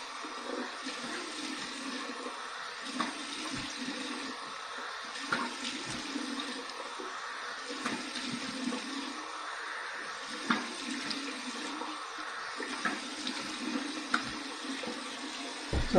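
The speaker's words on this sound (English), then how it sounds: "Here's my cold water rinse to close my pores." Cold water running steadily from a tap for a face rinse after shaving, a continuous faint splashing stream with intermittent splashes as hands move through it, close by and without talking.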